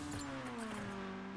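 Car engine in the Race Motors mobile racing game, a short, faint engine hum sliding slightly downward in pitch, followed by a quick shift blip at the end.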